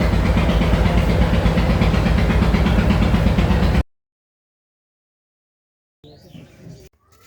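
A new passenger launch boat's engine drones in a loud, close, steady low rumble, then cuts off abruptly into silence before faint scattered sounds return.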